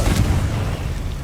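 An explosive Confringo spell goes off in Hogwarts Legacy, a single loud, close boom with a low rumbling body that holds steady through the short moment, with no talk over it.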